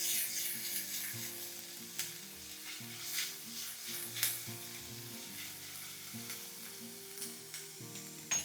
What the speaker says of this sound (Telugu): కొంచెం ఆయిల్ వేసి ఇందులో ఉల్లిపాయలు వేస్తున్నాం.